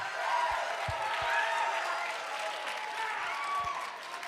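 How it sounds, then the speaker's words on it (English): Audience applause for student election candidates at a university chapel service, a steady wash of clapping from a crowd with a few low thumps, continuous throughout. "Can we give a warm, just round of applause to our candidates?"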